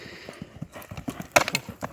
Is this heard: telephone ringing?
no